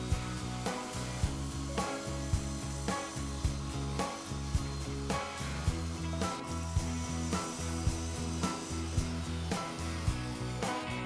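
A power saw cuts wood squares meant to be glued up and turned on a lathe into a pen holder, a droning motor broken by regular sharp bursts as each piece is cut, close and steady, with no talk.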